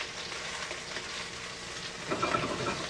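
Breaded shrimp frying in hot oil in a pan, a steady dense sizzle that swells noticeably louder near the end as pieces are turned, with no talking.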